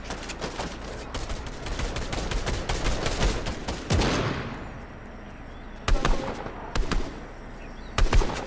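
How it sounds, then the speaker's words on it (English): Rapid bursts of gunfire in Fortnite Zero Build crack repeatedly, some loud and close, others in short spaced volleys against a rumbling background. "I hear gunfire."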